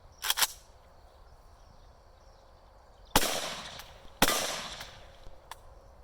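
A short AK rifle fires Tula ammunition at an AR500 steel plate: a quick pair of sharp shots, then two more single cracks seconds apart, each with a brief ringing decay.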